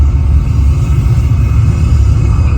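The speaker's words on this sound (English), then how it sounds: "We have main engine start." The Mission Space ride at Epcot puts out a loud, steady low rumble for a simulated rocket launch, a dense continuous roar with no breaks.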